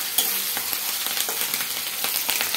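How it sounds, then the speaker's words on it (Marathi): Green chillies frying in hot oil for kande pohe, a steady dense sizzle with light crackles, close and loud throughout with no voices. "मिरची टाकून घेत आहे"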